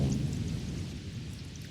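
Thunderstorm with rolling low thunder and steady rain, a deep continuous rumble under a soft wash of rainfall, fairly quiet and with no voices.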